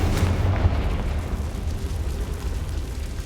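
A Confringo spell explosion in Hogwarts Legacy, a loud deep booming blast with heavy low rumble that slowly rolls off and decays over a few seconds, with no talk over it.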